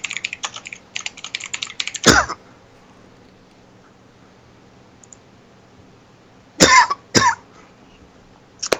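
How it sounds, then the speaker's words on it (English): Rapid computer keyboard typing clicks in bursts, broken by a sharp cough, then two more coughs close together after a quiet gap, all near and loud. "Sorry about the cough."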